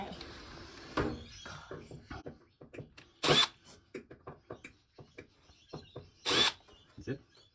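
A power drill backs screws out of a Samsung TV in two short, sharp whirring bursts a few seconds apart, with people talking close by throughout.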